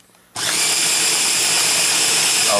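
A loud, steady high-pitched whine of a small dentist drill starts abruptly after a brief quiet moment and runs on continuously without letting up.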